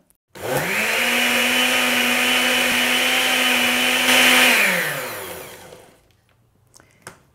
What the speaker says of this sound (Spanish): vamos a darle durante un ratito hasta que el hielo quede picadito finito, no licuado